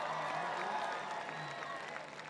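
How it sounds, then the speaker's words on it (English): A live audience at an education event applauds on stage cue, a dense, fairly faint wash of clapping with some crowd noise that tapers slightly toward the end. "Give yourselves a round of applause."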